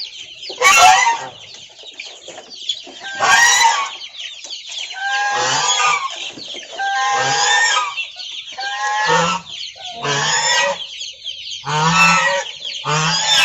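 Free-range village chickens, a rooster with four hens laying eggs, cluck and squawk in loud repeated bursts, with short pauses between calls and no talking.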